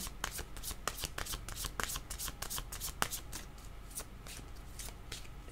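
Tarot cards are shuffled by hand in a rapid run of crisp riffles and soft flicks, close and fairly quiet, with a few sharper snaps.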